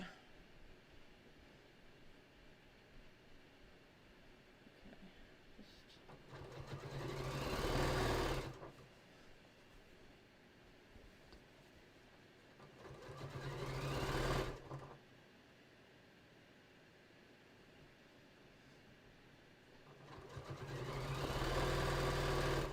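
A sewing machine stitches a foam-stiffened beach tote bag in three bursts, a buzzing motor hum that rises and holds for a couple of seconds each time, separated by quiet pauses.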